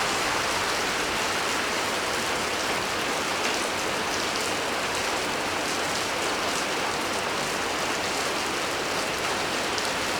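Steady rain falling at midnight outside a tower in Jufair, Bahrain, a dense continuous hiss of drops on surfaces, even and unbroken throughout with no voices.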